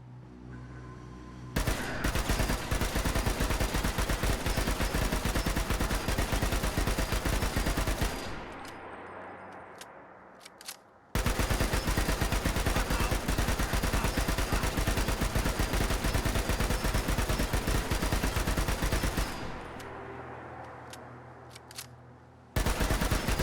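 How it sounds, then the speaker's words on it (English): Sustained automatic gunfire from a modded rifle in Fallout 4 aimed at the robot butler Codsworth, loud continuous bursts in two long volleys separated by a brief pause, with no talking. "Let's go shoot Codsworth."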